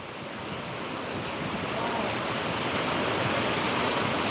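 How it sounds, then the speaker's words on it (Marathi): Heavy monsoon rain pours down around Barshi in a dense, steady roar that stays loud and unbroken and swells slightly over a few seconds, with no voices. "आज बार्शी परिसरामध्ये या ठिकाणी जोरदार अशा मुसळधार पावसाला सुरुवात झालेली आहे"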